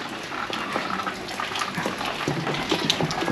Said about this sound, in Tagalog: Lalagyan ng tubig. Ayun yung tubig ulan.